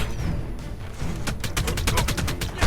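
Rapid gunfire from an enemy shooting at the player in the survival game ARK, a fast run of evenly spaced loud shots building over a dense, noisy background.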